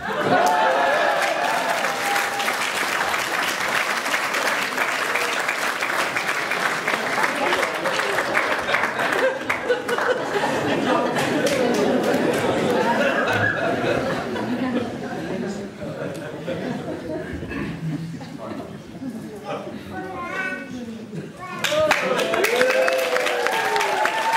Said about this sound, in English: would you please give a round of applause and a warm welcome back to the Methodist Mastermind Champion of 2010, Mr. Morris Balfour.